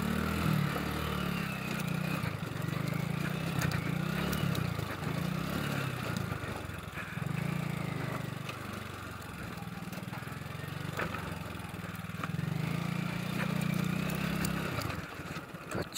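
A 125cc motorcycle engine runs continuously while riding an off-road trail, a steady mid-pitched drone with slight surges and dips throughout, fairly close and loud, with no talk over it.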